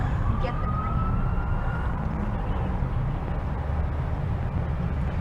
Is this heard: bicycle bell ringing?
no